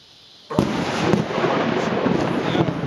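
A close lightning strike during a Florida thunderstorm sets off a sudden loud crack, followed by a sustained, roaring broadband rumble that holds for several seconds, with no talk over it.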